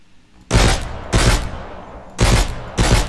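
Gunfire in the game Mist Survival as magazines are emptied: four loud, close bursts of rapid shots separated by short gaps, each with a fading echo.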